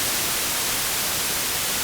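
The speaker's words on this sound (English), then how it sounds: "We normally use noise as a sound source" Steady white noise from a modular synthesizer's noise source, an even hiss with no rhythm or pauses, heard alone.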